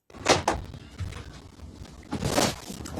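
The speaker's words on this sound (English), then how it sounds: "The door's closed." A house door swings shut with a couple of solid thunks and rattles, close by and fairly loud, with no talking over it.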